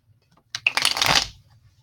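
Tarot cards shuffled by hand in one close, crisp burst of riffling and slapping that lasts under a second, with no talk over it.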